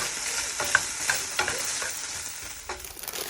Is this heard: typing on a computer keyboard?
no